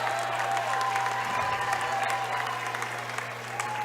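Galena crowd applauds at a boys high school basketball sub-state semifinal as a player heads to the bench, sustained clapping filling a gym under a steady electrical hum.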